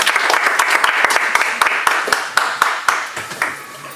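Audience applauding at a live inauguration event in Paris, a burst of sharp, distinct hand claps from a modest crowd, close and lively, tapering off toward the end.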